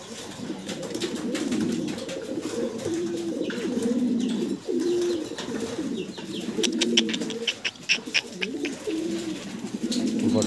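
Fancy pigeons in a Bangladeshi pigeon market coo repeatedly in soft, throaty phrases, close and fairly quiet, with scattered clicks and rustling around them.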